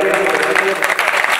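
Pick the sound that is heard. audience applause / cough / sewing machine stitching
audience applause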